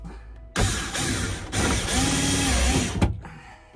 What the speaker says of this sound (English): you can utilise those holes to screw this in